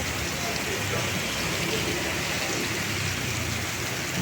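Heavy rain pours in Padang as dark falls during extreme weather with flooding and landslides, forming a dense, unbroken hiss from start to end.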